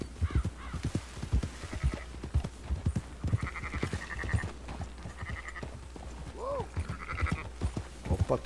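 Sheep being herded in Red Dead Redemption 2 bleat intermittently over steady hoof clip-clop from horses, with several drawn-out calls scattered through the scene and someone talking throughout.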